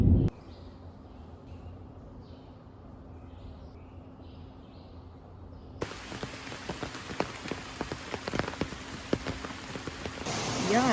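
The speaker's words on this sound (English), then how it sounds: "I'm walking in the dark, in the rain, on the way to dinner" Rain falls at night in Costa Rica, first a soft steady patter with faint chirps in the background, then suddenly much louder with crisp droplets tapping nearby surfaces.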